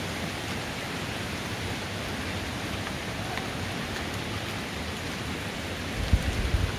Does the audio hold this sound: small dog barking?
no